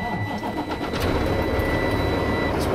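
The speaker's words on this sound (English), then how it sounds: "I'm going to start my engine" A truck engine cranks and starts before an air brake inspection, then settles into a steady, loud idle with a faint high whine above it.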